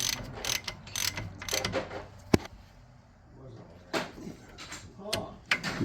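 Torque wrench ratcheting on the front brake bolts of a 2015 Hyundai Elantra, a series of close mechanical clicks and sharp ratchet bursts with one distinct loud snap midway, quieter gaps between.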